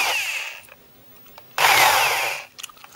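A power drill enlarges a hole in the casing of an RGB amplifier. It makes two loud, whining bursts, the first about half a second long and the second about a second long, with a quiet pause between them.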